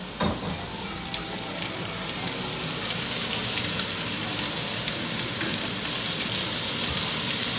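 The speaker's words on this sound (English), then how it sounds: "You let the bacon cook in there." Bacon sizzles and fries in a warm pot on fairly high heat, giving a steady, dense crackle with scattered sharp pops that grows slightly louder over time, with no talking.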